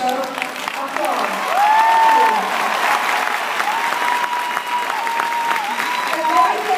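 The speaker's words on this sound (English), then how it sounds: "Please join me in giving them a well-round and deserved applause." An audience gives a sustained round of applause, loud and close, clapping steadily throughout with a faint murmur of crowd underneath.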